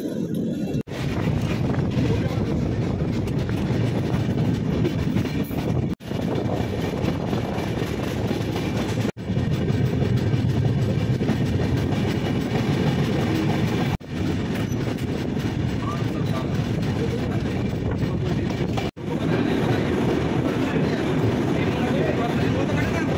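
Indian Railways 12809 Mumbai CSMT to Howrah Nagpur Mail heard from on board: a continuous loud rumble of wheels and rolling cars, broken by a few brief clanks as the train crosses a diamond crossing.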